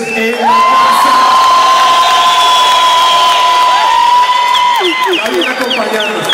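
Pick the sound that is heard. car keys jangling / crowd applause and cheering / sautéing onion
crowd applause and cheering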